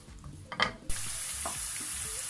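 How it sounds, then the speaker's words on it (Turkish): Green peppers drop into about half a tea glass of hot olive oil in a pan. After a brief clatter, a bright, steady sizzle bursts in and holds close and loud to the end. "Ve biberleri biraz kavuracağım."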